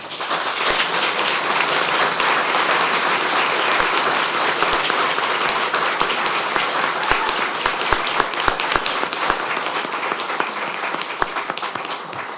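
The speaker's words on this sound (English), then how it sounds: "Round of applause, please, for Mrs. Walker" Sustained audience applause at an El Centro city council meeting honoring an outgoing council member, a thick continuous wash of clapping from many people in a hall, with scattered sharper claps standing out.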